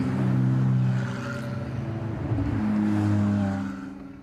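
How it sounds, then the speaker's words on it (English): Ferrari Challenge race cars at the Navarra circuit roll back toward pit lane, engines droning steadily at moderate distance with rising and falling pitch as several cars pass, no talk over them. "the cars making their way back to the pit lane right now"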